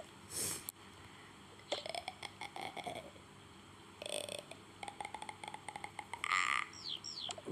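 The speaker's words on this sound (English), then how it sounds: "there's a frog" A small frog croaks in short bursts between rustling and handling noises at close range, with a couple of sharper squeaky calls near the end.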